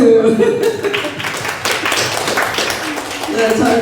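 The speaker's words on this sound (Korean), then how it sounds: "박수" Applause from a seminar audience at a Korean church in Gurgaon, India, with scattered clapping and taps mixed under overlapping voices as people talk and laugh.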